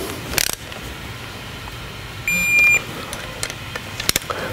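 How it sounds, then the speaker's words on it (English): A digital torque wrench tightens bolts on a Harley-Davidson Big Twin motorcycle, giving a few sharp ratcheting clicks, then a steady electronic beep about half a second long as the set torque is reached, with more light clicks after. "I've got a digital torque wrench and I'm kind of a stickler for torquing stuff"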